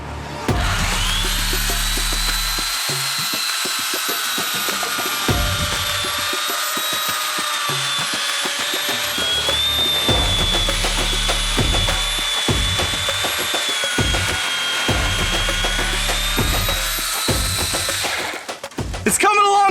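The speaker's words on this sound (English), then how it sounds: "It's my special chainsaw." A power saw cuts into a cardboard box fort, giving a loud, continuous high whine with repeated heavier bursts of low rumbling as the blade bites into the material.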